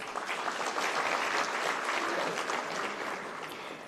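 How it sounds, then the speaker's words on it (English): Warm applause from an investment forum audience for award recipients, a full, steady crowd clapping that holds strong and tapers slightly near the end. "Let us give a warm round of applause to the recipients."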